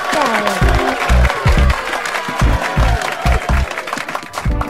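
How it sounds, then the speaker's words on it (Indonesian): An audience at a company pre-launch event claps hands, a bright, lively patter under amplified voices and booming low thumps of music, fairly loud and close throughout. "Tepuk tangan untuk kita semuanya ya"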